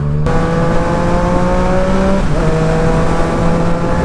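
A car driven without using the clutch pulls hard under steady engine drone, the pitch rising, then briefly dipping and climbing again at a clutchless gear change, loud and close throughout.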